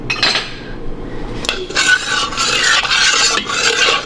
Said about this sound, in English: So I'm gonna stir it.